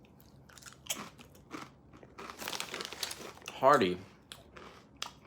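Crisp crunching and crinkling from biting into Lay's India Magic Masala potato chips, several close bites with a loud crunch near the end, mixed with bag rustling and a brief spoken word.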